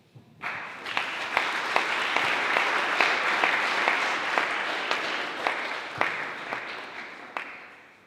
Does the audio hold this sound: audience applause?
yes